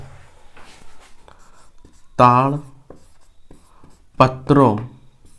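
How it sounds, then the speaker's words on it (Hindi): Handwriting a definition with a pen on paper, soft scratching strokes running through the clip while someone speaks between them. "चलिए मैं इसका परिभाषा लिखता हूँ पांडुलिपि का।"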